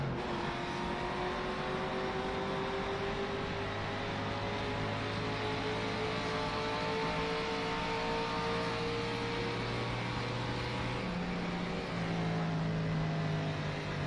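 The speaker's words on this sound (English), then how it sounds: "I can hear Proden downshifting" Racing car engine in a racing game on a run through Irish countryside, a steady, continuous drone with rising and falling pitch as gears shift, sustained throughout with no talking.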